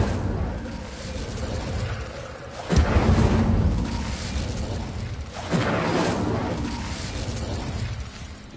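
The Incendio fire spell in Hogwarts Legacy erupts in two loud whooshing fiery bursts a few seconds apart, each swelling and then fading into a roaring rumble, with no talk.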